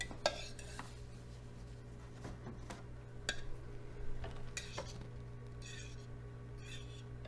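A fork scrambling seven cracked eggs in a bowl, with light repeated clinks and taps of metal on the bowl over a steady low hum, close but quiet and irregular.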